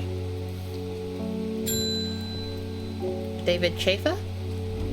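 Steady rain ambience in the video game Strange Horticulture, falling evenly and continuously beneath a voice talking, with a game chime and a few brief interface sounds partway through.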